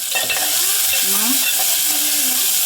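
Onion and crushed garlic sizzling and being stirred in a frying pan, a steady close fry with scraping stir strokes throughout.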